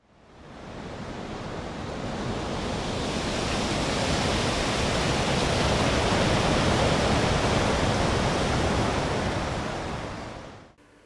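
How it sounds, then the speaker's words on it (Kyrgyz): Wind blows in a steady, broad roar, rising over the first seconds and holding loud and constant before cutting off, with no other sounds or voices. "Шамалдын үнү"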